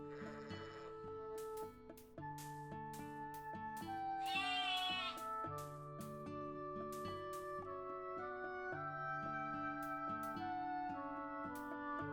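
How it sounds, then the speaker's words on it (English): Sheep bleat repeatedly in a video game, short nasal cries scattered over a steady tonal game music background, one louder wavering bleat standing out near the middle. "More sheep."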